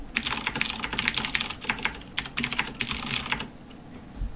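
Quick bursts of typing on a computer keyboard, close and crisp, with clustered keystrokes separated by short pauses before trailing off at the end.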